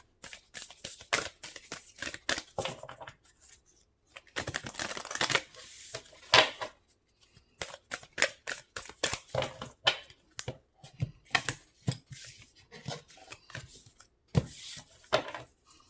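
A deck of tarot cards being shuffled and cut by hand, producing bursts of soft riffling and slapping close by, broken by short quiet pauses.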